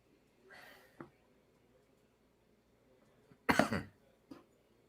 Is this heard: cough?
yes